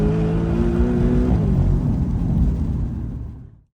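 A 2019 Porsche 718 Boxster GTS accelerates hard, its loud engine rising in pitch, then easing off, and the car fades out over about three seconds with no talk.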